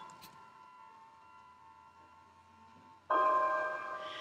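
Eerie ambient drone from the Five Nights at Freddy's game plays alone, a faint sustained hum that swells abruptly into a louder, brighter wash of tone for the final second.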